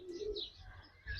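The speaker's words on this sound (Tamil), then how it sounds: "இதுக்குள்ள குட்டி குட்டி புறா பறவை இருக்கு." Small pigeons cooing inside a farm enclosure at North Sedra Farm in Qatar, soft low coos with a few higher chirps, close and moderately loud, no talking.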